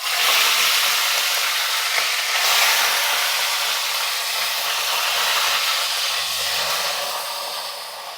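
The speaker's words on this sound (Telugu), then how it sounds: "ఇంకా చేపల ముక్కలు అయితే వేపేద్దాం." Fish pieces fry in hot oil, making a loud, steady, broad hiss that fills the whole stretch close up and eases slightly near the end. There is no speech.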